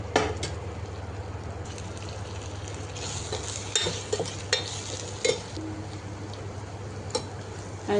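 Eggs scrambled into mutton liver masala in a hot pan, a steady sizzle with scraping stirs and occasional spoon clinks against the pan, close and continuous.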